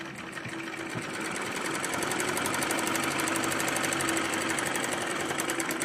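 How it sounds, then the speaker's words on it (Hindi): A sewing machine stitches a salwar, a steady rapid mechanical whir with a fast needle chatter running continuously and close, growing slightly louder after the first second. "अब इसके ऊपर दबाने वाली सिलाई लगाएंगे इस तरीके से, अच्छे से पकड़ के इसको।"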